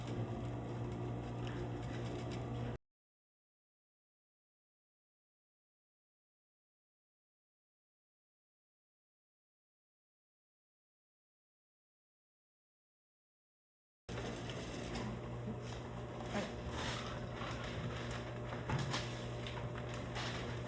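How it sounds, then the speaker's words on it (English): A sewing machine edge-stitches binding along a sleeve slit, running steadily with a close, even mechanical hum in two stretches separated by a long silent pause. "I'm gonna do the edge stitch one, where it's on the binding."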